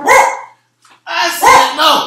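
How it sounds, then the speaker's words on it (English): A dog barks close and loud, a short bark followed after a brief pause by a quick run of several more. "You don't want to bark anyway."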